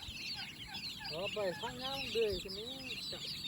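Turkeys gobble and chickens cluck at a rural home, with several wavering calls rising and falling over the middle stretch while a voice talks nearby.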